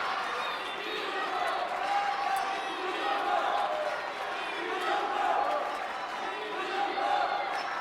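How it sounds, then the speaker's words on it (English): A table tennis final crowd chanting in a large arena, a broad roar with rhythmic swells rising and falling repeatedly, steady and fairly loud, with a commentator's voice over it at times. "as the crowd chants for Dima, it drowns out the chants for Phan Zhendong"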